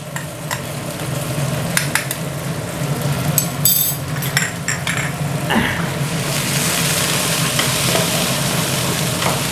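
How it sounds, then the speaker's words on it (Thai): Roasted chili paste with sugar, soy sauce, seasoning sauce, fish sauce and oyster sauce stir-fried in a pan for clam dish, with loud continuous sizzling and rhythmic scraping and clanking of a spatula. "ผัดให้ทุกอย่างเข้ากันก่อนนะครับ ให้พริกเผาละลายด้วยนะครับ"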